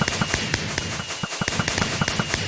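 Fireworks in the video game Minecraft go off in a rapid, steady string of sharp crackling pops, loud and close, with no voices.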